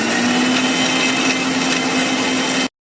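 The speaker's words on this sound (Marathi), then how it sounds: "आता या मसाल्यात आपण थोडस अगदी थोडंसं पाणी घालून घेणार आहोत आणि बारीक करून घ्यायचं" Mixer grinder whirring as it grinds egg curry masala with a little water, a loud continuous motor whine for under three seconds that stops abruptly.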